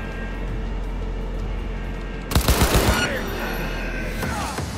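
A rapid burst of automatic gunfire in Cyberpunk 2077 rattles out loud and close for under a second over constant game background noise, followed by a fading echo.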